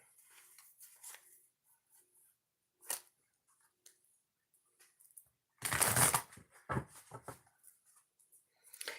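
Oracle cards are shuffled in a quiet room: soft papery riffles and taps, with one louder burst of rapid shuffling near the end, close and alone.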